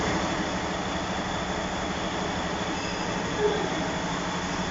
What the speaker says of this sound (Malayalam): ഇതാണ് നമ്മുടെ വണ്ടിയുടെ എൻജിൻ കേട്ടോ.